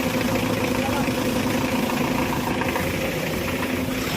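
A car engine idles steadily and close by with a constant low rumble, while people talk over it.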